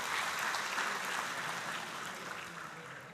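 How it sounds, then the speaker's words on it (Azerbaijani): An audience at an international economics and management research conference applauds in a steady, full burst of clapping that gradually tapers off toward the end. "özünüz üçün bir gürültülü alqışlar səsləndirək"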